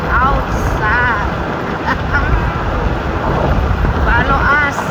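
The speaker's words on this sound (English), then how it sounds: "Oh my God, it's very windy." Strong wind buffeting outdoors, a loud continuous low roar of gusts hitting the microphone, with voices speaking intermittently over it.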